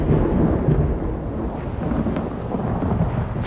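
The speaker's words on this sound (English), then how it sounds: "The storm is coming." Thunderstorm ambience from the Elder Scrolls Online video game, a steady loud rumble of thunder and rain that continues throughout with no pause.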